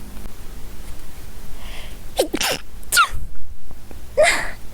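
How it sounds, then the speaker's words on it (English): A person sneezes several times in a row, sharp close bursts with audible breaths and snorts between them, loud against a quiet indoor background with no talking. "Sorry. I had to sneeze."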